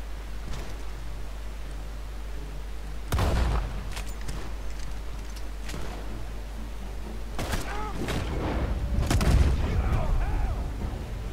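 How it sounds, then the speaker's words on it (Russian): Gunfire in Red Dead Redemption 2, shots coming from a barn: several sharp bursts of shots at about three, four and between seven and ten seconds over a steady low background hum, with no talking. "Из амбара стреляют."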